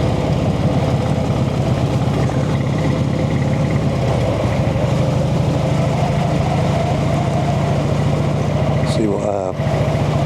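A Brough Superior motorcycle engine runs at night with a steady, loud mechanical drone and a regular low pulse throughout, and a brief rattle near the end.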